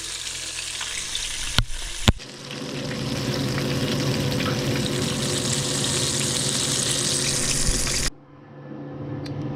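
Steady, loud sizzling and crackling of a chicken thigh frying in hot oil, continuing for several seconds before stopping abruptly.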